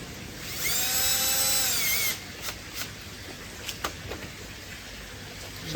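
A power drill whirs loudly for about a second and a half, its pitch rising as it spins up, while an air loop system is fitted for a koi pond. A few light knocks and clicks follow.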